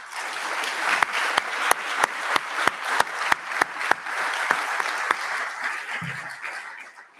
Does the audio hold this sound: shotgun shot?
no